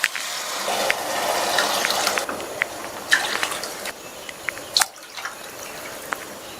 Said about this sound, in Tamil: அதனால 4 கப் தண்ணி சேர்த்துக்கலாம்.